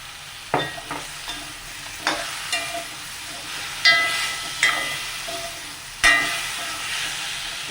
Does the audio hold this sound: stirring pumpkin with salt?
yes